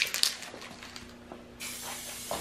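Spray gun painting the bumper of a Mazda Miata: a sharp, hissing burst of paint spray that starts abruptly partway through and continues steadily, preceded by brief clicks and handling noises.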